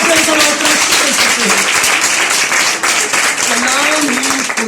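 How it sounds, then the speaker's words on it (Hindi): Loud, continuous applause from a religious gathering's congregation, dense clapping sustained throughout with a voice carrying over it. "खुदा के लिए जोरदार तालियां बजाइए"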